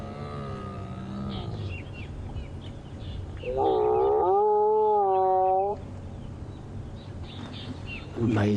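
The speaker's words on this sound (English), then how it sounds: "Amazing sounds they make." Lions vocalizing during a social greeting on a safari drive, a long moaning, harmonic growl-roar rising out of outdoor ambience and lasting a couple of seconds, with a person's voice heard beforehand.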